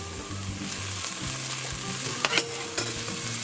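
Minced garlic and onions fry in a pot for a cassava oil down, giving a continuous soft sizzle with a few stirring scrapes, close and steady, with no talking.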